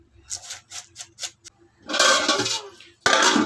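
A lid goes onto a cooking pot: a few light, spaced metallic taps and clinks, then a longer scraping rattle and a final sharp clatter as it settles, all close by.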